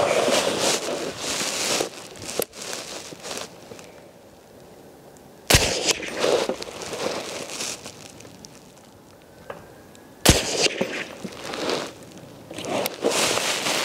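A PSA Sabre 10 rifle fires three sharp, loud shots several seconds apart, each a sudden crack, with rustling handling noise and ambient shuffling between them.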